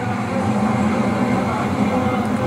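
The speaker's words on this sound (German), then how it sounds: "So, da kommt unsere U-Bahn Richtung Hauptbahnhof." A Berlin U-Bahn train heading toward Hauptbahnhof rolls in on an elevated line, with a loud steady rumble of wheels and motors close by and no other sounds standing out.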